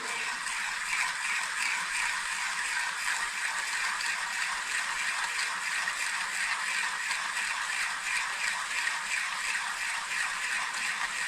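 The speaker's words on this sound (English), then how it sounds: "The grinder isn't hard to use, doesn't require a lot of strength" A manual coffee grinder for a Kafmasino One espresso machine is turned steadily, giving a continuous close, even grinding rattle with a fine ratcheting texture and no pauses.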